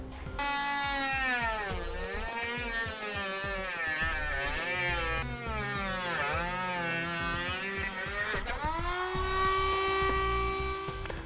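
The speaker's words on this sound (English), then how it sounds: "Using a small cutoff wheel, I'm just going to remove the bottom section of this fastener" A small cutoff wheel slices through the bottom section of a vehicle frame fastener while a Draw-Tite Max-Frame trailer hitch is being installed. It gives a loud, steady, high-pitched whine that rises and falls as the cut goes on, with no voices.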